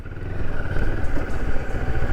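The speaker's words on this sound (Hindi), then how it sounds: "अब थोड़ी सी ऑफ रोडिंग किया जाए इस बाइक पे" A Moto Morini X-Cape 650 motorcycle ridden off-road, its engine a loud, close, steady droning rumble with a rough mid-range buzz and no voices over it.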